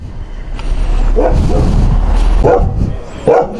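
A dog barks several times nearby, the yelps coming in short bursts over a constant low rumble of background noise.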